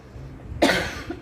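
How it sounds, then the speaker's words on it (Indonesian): A single cough bursts out about halfway through, followed by a second, softer cough near the end, close and fairly loud indoors, apparently from someone wearing a mask. "Sama-sama batuk nggak apa"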